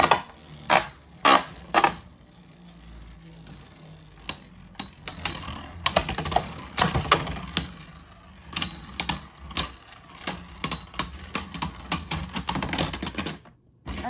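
Beyblade spinning tops clashing inside a stadium, a rapid run of sharp metallic clicks and collisions in irregular bursts, close and fairly loud with no voices, ending in a brief silence.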